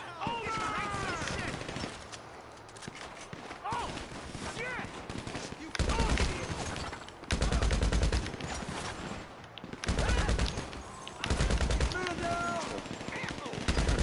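Gunfire in GTA V Online during a Diamond Casino heist shootout, with loud bursts of automatic fire in several long stretches over continuous game noise, while a person talks over it.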